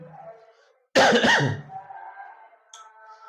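A single harsh cough bursts out, loud and close, followed by quiet background hum.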